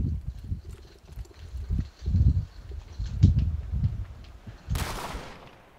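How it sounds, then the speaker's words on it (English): Explosions and gunfire in a multiplayer shooter, heard as a string of dull, low thumps and bursts at moderate distance, closing with a sharp, bright blast. "Got explosions."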